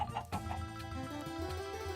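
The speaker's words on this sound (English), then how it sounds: "Even this chicken wandered into our base." A chicken in the Minecraft video game clucks in a few short, soft bursts over a continuous murmur of background music, fairly faint.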